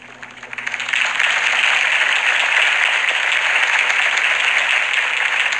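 Crowd applause in a Batman video game swells in within the first second, then holds as a steady, dense clapping roar throughout.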